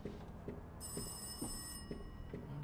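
Telephone ringing in the horror video game Rise of Insanity, a faint, steady ringing with a regular pulsing beat and a brighter bell tone layered in partway through, with no one talking.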